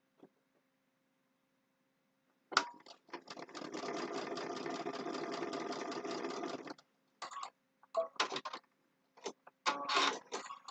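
A sewing machine with a twin needle stitches a scrap of fabric, a near mechanical whir running steadily for about four seconds after a click, then several short stop-and-start bursts.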